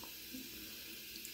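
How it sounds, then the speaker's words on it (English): Tap water runs steadily from a faucet onto a hand, a continuous close hiss and splash with no talking. "I just run water on the faucet, wet my hand"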